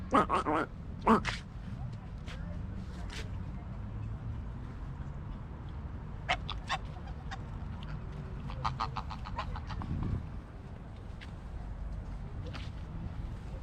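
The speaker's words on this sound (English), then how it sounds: "Anybody know what kind of bird this is?" Birds call in a London garden, sharp chirping bursts arriving in scattered clusters against a steady hum of outdoor background noise.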